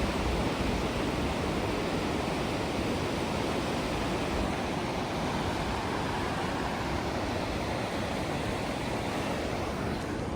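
A clear mountain stream in Spiti rushes loudly and steadily at close range, a dense, unbroken roar of flowing water with no voices over it.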